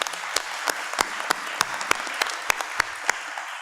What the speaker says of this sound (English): Again, another round of applause for our governor.